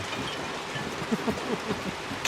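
Steady rain in Hunt: Showdown hisses as a dense, even wash of noise, with faint patters and drips rising through it at a constant level.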